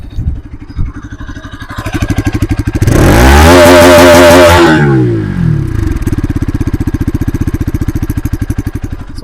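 A 2025 Bajaj Pulsar RS200 motorcycle idles with a steady thumping exhaust, then revs hard for about two seconds in a loud rising and falling howl before settling back to a burbling idle.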